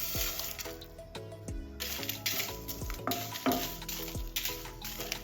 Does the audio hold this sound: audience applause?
no